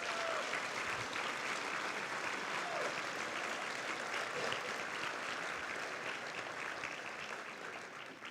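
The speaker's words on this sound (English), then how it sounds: "Please give them a round of applause." Steady audience applause fills a 50th-anniversary celebration for El Centro de la Raza volunteers, dense continuous clapping held at an even level throughout and tapering slightly at the end.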